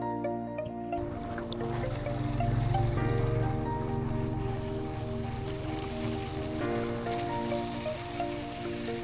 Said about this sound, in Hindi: तकरीबन 3रा दिन है जो मुसलसल बारिश हो रही है, कभी हल्की, कभी तेज़, कभी रुक जाती है